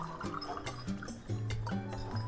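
Water poured from a tumbler into a biryani pot, a series of uneven splashing, gurgling pours in quick bursts, close by and fairly quiet.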